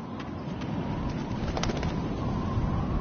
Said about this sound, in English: Birds are so lucky, they can always escape.